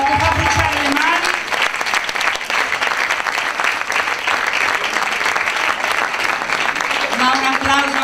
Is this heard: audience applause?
yes